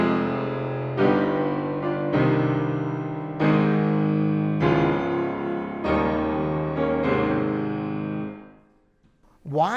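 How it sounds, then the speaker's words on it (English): A series of loud, forceful piano chords struck hard, about seven in a row, each ringing briefly before the next, with a harsh, slapped attack. "If I just sail into them and hit them hard, you're going to get kind of a slapped sound like this."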